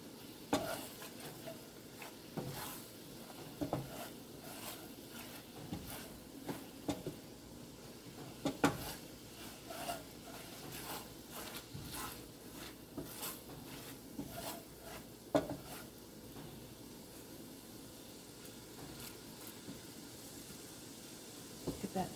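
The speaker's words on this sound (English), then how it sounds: "So right now I have it on a simmer." Balsamic vinegar reduction simmering in a pan, soft steady bubbling and faint sizzle punctuated by scattered clicks and light utensil taps, quiet and close, with no talk.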